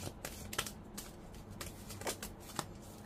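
Tarot cards being shuffled by hand up close, a string of quick papery riffles and soft slaps in an irregular rhythm, quiet and with no voices.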